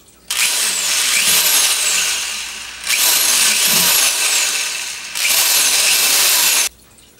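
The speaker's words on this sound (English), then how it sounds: "So we have drilled holes in our tub" Power drill boring holes through a plastic worm bin tub, three loud sustained drilling bursts with rising whine, each a couple of seconds long with short pauses between.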